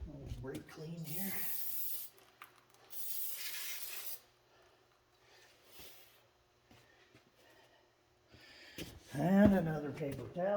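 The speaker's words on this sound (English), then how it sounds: "Brake clean here." Brake cleaner sprays onto wheel parts of a Fiat Allis FR12 loader during a wheel seal replacement, in two loud, steady hissing bursts of about two seconds each, with someone talking nearby before and after.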